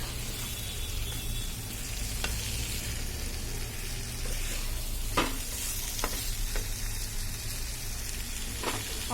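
Meat curry with fish roe sizzles and fries steadily in a pan while being stirred and sautéed, a continuous close hiss broken by occasional scraping and clinking from the spoon.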